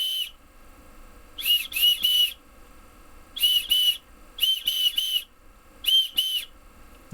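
A hand whistle blown in short bursts on a single pitch, grouped in twos and threes like a tune's rhythm with gaps between, loud and close with a faint breathy hiss.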